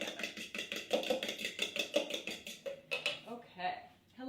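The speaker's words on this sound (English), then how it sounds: "I'm gonna add some salt directly to my eggs, and I'm gonna whisk that together." Eggs with salt are whisked briskly in a bowl, a quick steady run of light clicking strokes at close range, slowing toward the end, with no talk over it.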